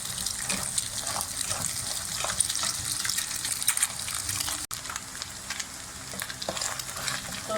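Food frying in a pan for restaurant-style Chinese fried rice, a steady hiss and crackle with frequent stirring scrapes and watery spatters, continuous and fairly close throughout.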